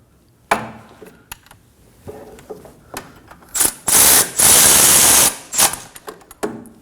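A ratchet snugs the front wheel hub bolts on a 2011-2016 Kia Optima during a wheel bearing and hub replacement, with sharp clicks and several loud bursts of rapid ratcheting between quieter taps of metal.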